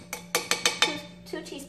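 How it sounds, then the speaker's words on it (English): A spoon knocks and scrapes against a bowl while spicy cucumber salad is mixed, four or five distinct clinks in quick succession followed by softer stirring, close and clear. "So mix that up."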